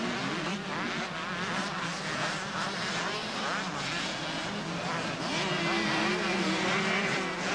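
Honda and KTM motocross bikes racing at a 1990 Moomba supercross event at Calder Park, Australia; a steady, fairly loud drone of revving two-stroke engines rises and falls continuously, with engine pitch climbing near the end.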